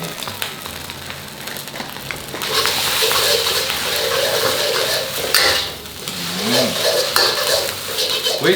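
Stir-fried noodles with sauce for a Thai pad ngo-ngae dish, tossed in a pan with a steady sizzle, clattering utensil scrapes and pan knocks close by, filling the whole stretch without speech.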